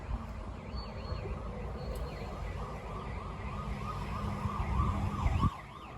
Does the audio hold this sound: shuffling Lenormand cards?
no